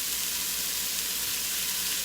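Onions fry in a pan for squash tomato soup, producing an even, close sizzle that holds steady throughout with no voices over it.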